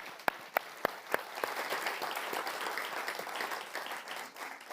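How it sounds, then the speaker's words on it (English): Audience applause at a youth skills summit in London, opening with a few sharp separate claps before swelling into steady, moderately distant clapping from the crowd. "So can I just give a massive round of applause to them?"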